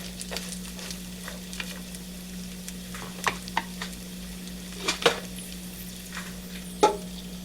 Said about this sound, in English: So I'm just going to keep stirring them like this for about 5 to 7 minutes, on and off.